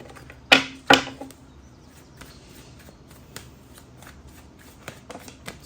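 Tarot cards being shuffled, with two sharp riffling bursts near the start followed by softer intermittent card flicks and taps, close and fairly quiet with no talking.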